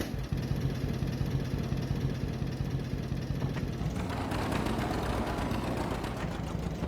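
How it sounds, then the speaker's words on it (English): A small tractor engine idles steadily in the Farming Simulator game, a low continuous chug with a faint knocking pulse that brightens and grows a bit rougher partway through, as if revved slightly, with no voices. "I love the sound of these little tractors."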